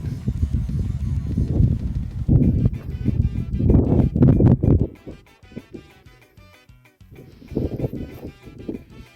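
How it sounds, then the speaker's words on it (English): Strong wind buffeting the microphone on a mountain trail, heavy low rumbling gusts that surge and fade, dropping briefly before picking up again. "if you can hear me over the wind"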